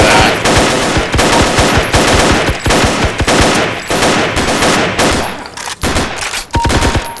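Dense, continuous video-game gunfire with rapid machine-gun bursts and overlapping shots, loud and sustained throughout with brief dips, no talking.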